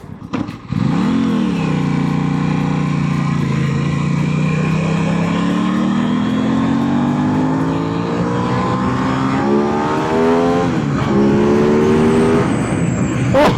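A motorcycle accelerates hard and shifts up through the gears, its engine note climbing steadily and then dropping briefly at each shift. The engine is loud and close, with no talking.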